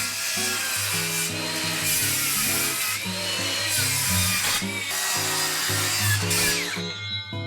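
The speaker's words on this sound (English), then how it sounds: "I am going to take my circular saw and rip the ends" A circular saw whines and grinds through the ends of a wooden pallet in long, loud passes, its pitch dipping under load and rising again between cuts.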